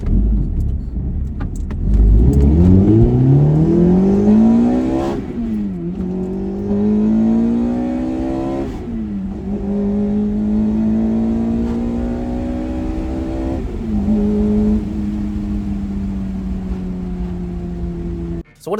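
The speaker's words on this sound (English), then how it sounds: "one of the craziest induction noises you have ever heard" A third-generation Toyota MR2 Spider engine revs hard and accelerates through several gear shifts, each pull climbing in pitch with a loud, throaty induction roar.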